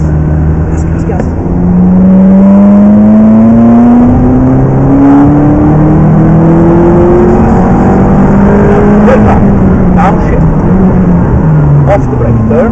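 A McLaren 650S accelerates hard on a racing track, its engine note rising loud and close through repeated upshifts and revving sweeps, with a coaching voice talking over it throughout.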